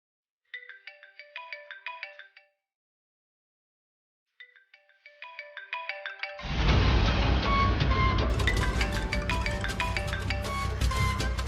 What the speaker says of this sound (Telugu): ఇందాకటి నుండి ఫోన్ రింగ్ అవుతుంటే లిఫ్ట్ చేయట్లేదు